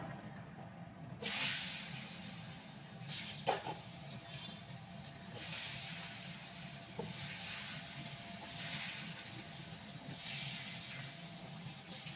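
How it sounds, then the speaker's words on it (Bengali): Eggplant frying in a pan gives a soft, continuous sizzle and hiss, fairly quiet, with a few brief clinks and scrapes scattered through it and no speech. "এবার বেগুন গুলো ভাজবো"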